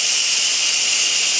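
Steam hisses from an Instant Pot as its pressure is released after cooking Mexican rice: a loud, steady, continuous rush that holds at the same level throughout.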